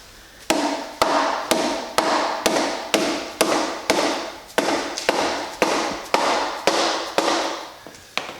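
Hammer striking the transmission of a 1996 Honda Accord engine to separate it, about fourteen sharp metallic blows in a steady, evenly spaced rhythm, close and loud with no talk.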